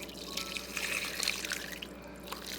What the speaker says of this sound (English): this is where you pour your hot lye water into your oils